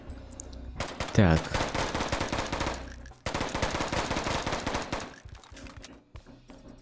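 Sustained machine gun fire rattles loudly in the video game Intravenous in two long automatic bursts separated by a short break, with a brief spoken word near the start.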